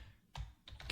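Typing on a computer keyboard, a few quick, soft close keystrokes in two short bursts, faint and without speech.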